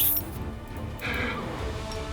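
Horses neigh in Pathfinder: Wrath of the Righteous, one loud whinny cutting in around the middle over a busy layer of game sounds and music.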